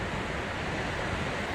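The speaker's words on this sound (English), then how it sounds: "Oh, the waterfall is so huge." A huge Icelandic waterfall roars as a steady, dense wash of broadband noise, close and loud, with no pauses or distinct events throughout.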